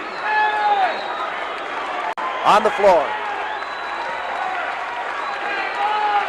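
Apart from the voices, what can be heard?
wrestling crowd jeering Butch Reed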